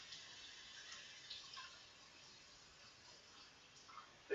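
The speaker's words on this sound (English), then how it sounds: "But we want to rinse the rice first really quick" Cold tap water runs faintly while rice is rinsed in a kitchen, a soft continuous trickle and splash with small drips and a slightly louder burst at the very end.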